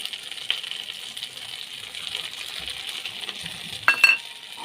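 Mustard paste, chopped ginger, turmeric, cumin, chili powder and salt frying in a pan for a Bengali mustard katla fish curry, a soft steady sizzle with a few scraping stirs and a brief metallic clink near the end.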